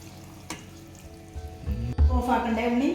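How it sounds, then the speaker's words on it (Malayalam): Coconut milk pours into a hot pan for egg stew, setting off a rising sizzle and bubbling that grows louder toward the end, with faint kitchen clatter before. "നമ്മൾ തേങ്ങാപ്പാൽ ഒഴിക്കുന്നുണ്ട്"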